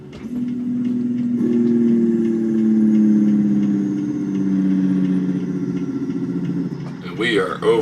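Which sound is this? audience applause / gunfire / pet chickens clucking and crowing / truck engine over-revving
truck engine over-revving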